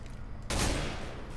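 Gunfire in the game CS:GO, a sudden loud burst of rapid shots breaking in halfway through after a quiet stretch, then ringing on densely to the end.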